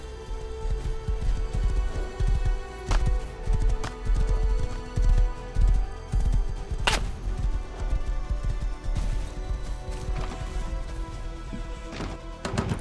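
Horse hooves clip-clopping in the video game Rust, a continuous run of quick hoofbeats with occasional sharp thuds and knocks over a busy game soundscape.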